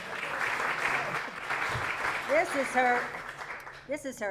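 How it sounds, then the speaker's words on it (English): Banquet audience applauds at an awards dinner to mark an 80th birthday, a steady wash of clapping that fades as a speaker resumes talking near the end. "you need to give her a round of applause"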